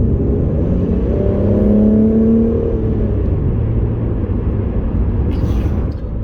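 A car accelerating hard under sustained engine load, the revs climbing in a rising whine that holds loud and steady for several seconds before easing, with brief speech near the end.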